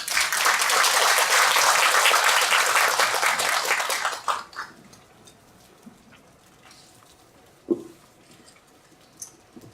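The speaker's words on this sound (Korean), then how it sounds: "큰 박수로 맞아주시기 바랍니다" Loud, dense applause from an academic conference audience welcoming a keynote speaker fills the first few seconds, then stops abruptly, leaving quiet room noise and a single faint knock.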